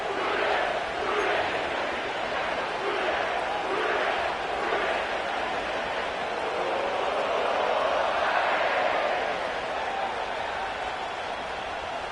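A stadium crowd at Paycor Stadium in Cincinnati before a week 1 football game, a loud continuous roar of many voices with rhythmic cheering swells throughout.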